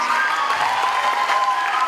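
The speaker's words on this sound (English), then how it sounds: "Once again, we applaud for the dancers, for the players who came to the stage." Steady, dense applause from an audience at a college event, honoring the dancers and players who performed on stage; the clapping stays loud and even throughout, with no voices standing out.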